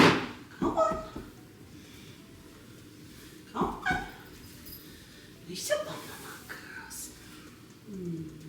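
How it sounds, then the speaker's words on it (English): A puppy whimpers and yips in short high bursts, scattered across the stretch, close by, with soft handling noise between. "Yes, you puppy Gil."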